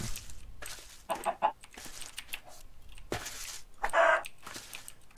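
Minecraft chickens clucking in short bursts, several separate clucks and squawks spaced irregularly against a faint background.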